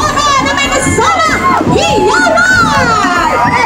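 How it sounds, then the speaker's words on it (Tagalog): A crowd of adults and children at a barangay birthday gathering in Taguig cheers and shouts loudly, with high excited voices rising and overlapping, while applause runs underneath the whole time. "Palakpakan na may kasama!"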